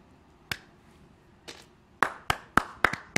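Hand claps during an indoor vocal lesson: a single clap, a softer one, then a quick run of five sharp claps, close and fairly loud, with no talk over them.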